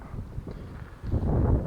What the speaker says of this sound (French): Il y a extrêmement de vent